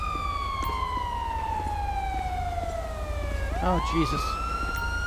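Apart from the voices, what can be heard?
police car sirens in video game GTA LSPDFR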